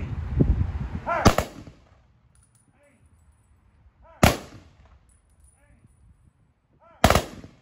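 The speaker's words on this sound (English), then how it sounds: "we fire a rifle salute out of our departed comrade" Rifle salute volley at a memorial service for a departed comrade, three sharp loud cracks spaced a few seconds apart with faint echoes, the first following a spoken command.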